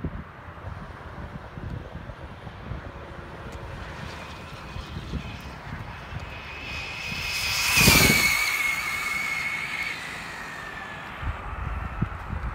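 A Traxxas Slash RC car on 4S drives back at speed; its high motor whine rises out of steady wind noise, peaks as it passes close and then fades away.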